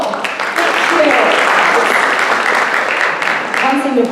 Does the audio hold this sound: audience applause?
yes